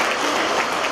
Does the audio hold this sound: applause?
yes